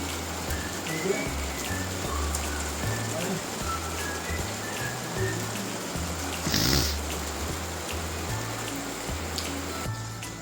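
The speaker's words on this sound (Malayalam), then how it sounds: "അങ്ങനെ പുറത്ത് നല്ല തകർത്ത് മഴ പെയ്തുകൊണ്ടിരിക്കലെയാണ്" Heavy rain hisses steadily outside after dark in Idukki, Kerala, an even wash of sound over a low, rhythmic hum.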